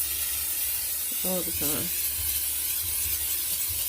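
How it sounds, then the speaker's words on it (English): Olive oil spray hisses steadily into an air fryer basket in a long, even burst, with a brief spoken phrase over it. "First I'm gonna spray the air fryer with the olive oil spray."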